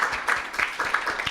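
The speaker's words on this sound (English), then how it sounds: "we would like to give a big round of applause to Dr. French." A round of applause from an audience at a public event on citizenship and immigration, a short burst of clapping with some uneven louder claps, heard at moderate volume.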